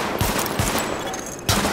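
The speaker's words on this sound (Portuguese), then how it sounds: "Teste de arma iniciado. Atire nos alvos destacados." Rapid gunfire rattles through a weapon test on a range in The Division, with short bursts of shots, a pause, and another burst, loud and close with no talking.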